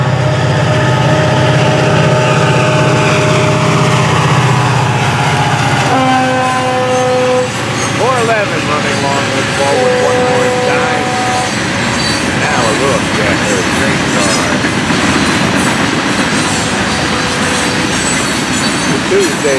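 FEC 920 local freight train rolling past on a May morning, loud and close throughout, with horn toots, squealing wheels and steady rumbling of railcars as the long train passes.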